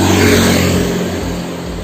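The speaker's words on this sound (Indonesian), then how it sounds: "Nah ini motor Scoopy standar lewat itu." A standard Honda Scoopy motor scooter rides past on a street, its mid-pitched engine loud and close, swelling then easing away over a couple of seconds with no talking.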